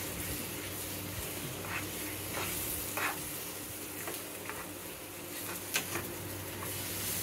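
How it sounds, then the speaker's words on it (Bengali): Dal with black cumin is stirred in a hot pan, giving a continuous soft sizzle broken by gentle scrapes of the spoon. The sound is close and faint, with no other sound over it. "কালো জিরে দিয়ে এবারে এটাকে নাড়ছি"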